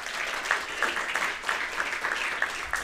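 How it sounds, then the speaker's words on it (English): Audience applauds at the close of a live seminar talk on gut health at VIV Asia, a steady, even clapping from many hands at moderate volume with no voices. "A round of applause for Alain."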